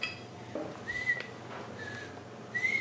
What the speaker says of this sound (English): I hear a whistle